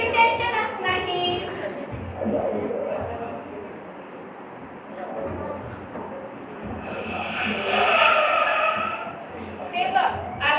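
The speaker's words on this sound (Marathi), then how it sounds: "ते बघ, आलाच मोटारीचा आवाज." A motor car arriving as a stage effect in a Jain play: a rumbling, hissing vehicle noise swells toward the end, heard under and between actors' voices.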